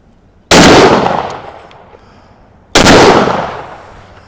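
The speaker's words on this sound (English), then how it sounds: "So we'll see if my shoulder will stand up to a couple of 12 gauge slugs." Two very loud 12 gauge slug shots from a CZ Sharp-Tail Coach shotgun fired at a target, each a sharp close blast with a long decaying tail, about two seconds apart.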